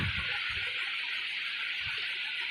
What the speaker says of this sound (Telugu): ఫైనల్గా నూనె పోస్తున్నాం